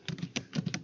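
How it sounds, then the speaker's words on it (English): Quick run of keystrokes on a laptop computer keyboard, around seven soft clicks in an uneven patter, close and fairly quiet with no talking. "There on the search bar you type in"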